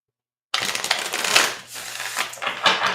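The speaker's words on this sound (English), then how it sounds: "I gotta shuffle the cards." A continuous run of dry, crackly riffling and papery slaps as tarot cards are shuffled, close and fairly loud, rising and falling in bursts with no voices.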